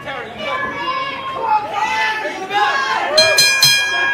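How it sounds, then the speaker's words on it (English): A wrestling ring bell clangs twice in quick succession to start a championship match, bright strikes cutting through a noisy crowd and overlapping voices. "There's the bell, and our first championship match of the evening is underway."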